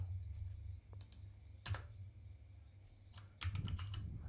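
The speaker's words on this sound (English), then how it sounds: "Here let me put some values. I'm gonna type app name." Quiet keystrokes on a computer keyboard while entering app settings, sparse clicks coming in short bursts with pauses, a denser flurry near the end.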